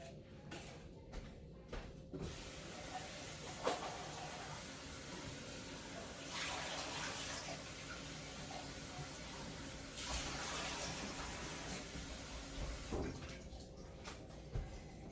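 Garlic rinsed under running water in a kitchen: a steady tap stream, close, with two louder surges of splashing and a few clunks and knocks between them.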